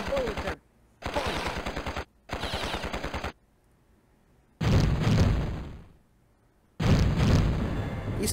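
Turrets firing in Epic Little War Game, a video game: repeated loud bursts of rapid gunfire in separate volleys with short pauses between them, alone without talk.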